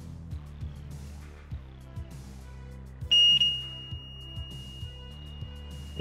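A single high electronic beep from a PS5 console under repair for the blue light of death fault rings out and holds for a few seconds over a low steady hum, fairly quiet and close.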